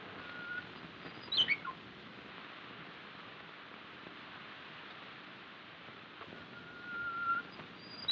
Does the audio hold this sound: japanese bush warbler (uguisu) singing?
yes